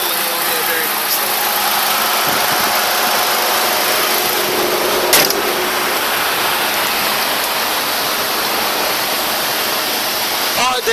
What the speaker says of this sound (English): it's idling along there very nicely